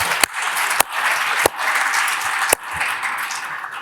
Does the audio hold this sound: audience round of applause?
yes